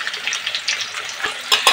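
Garlic, green chili and onion frying in oil for a fish chili dish, a steady close sizzle with a few sharp spatula clicks near the end, no voices.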